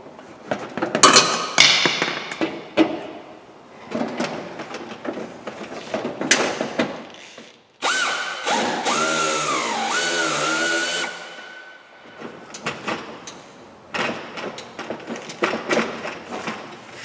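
Bolts are screwed into repaired nuts on the front end of a 2005 Fiat Doblo, with irregular metallic clanks, taps and ratcheting spread over the stretch, a smoother whirring tool passage midway, and no talking.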